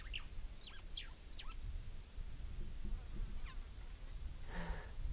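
Quick, high chirps from a few birds scatter over faint background hiss, brief and fairly quiet, with a low clucking call near the end.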